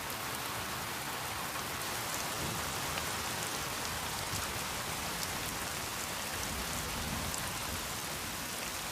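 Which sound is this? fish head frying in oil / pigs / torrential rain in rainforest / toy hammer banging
torrential rain in rainforest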